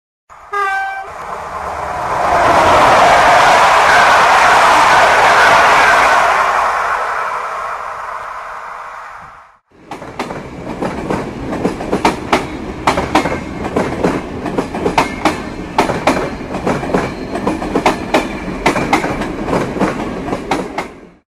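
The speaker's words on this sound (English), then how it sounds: "Train." A train rushes past with a roaring whoosh, then wheels clatter over the rails in a rapid rhythmic clickety-clack that continues steadily.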